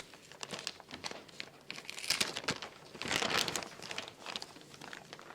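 Packing tape peeled and crinkled off the cardboard box of an MSI MPG Z690 Carbon EK X motherboard, a close, irregular run of crackling rips and crinkles that swells in the middle and end, with no talk.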